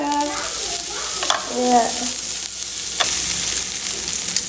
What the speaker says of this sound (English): And it's so sizzly.